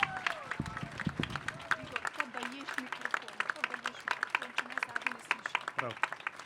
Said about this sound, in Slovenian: dajmo mu en aplavz za vzpodbudo